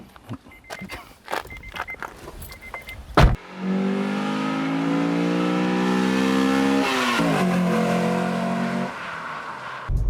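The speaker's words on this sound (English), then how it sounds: "let's take it for a spin" A Honda Accord Euro R CL1 starts with clicks and a thump, then its engine pulls away and accelerates steadily, revs rising through a gear change and climbing again, heard from inside the car.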